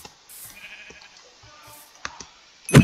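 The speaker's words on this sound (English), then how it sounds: "Sheep." Sheep in the video game Minecraft bleat in a short, wavering call, with soft clicks and a louder burst at the end, heard close and alone.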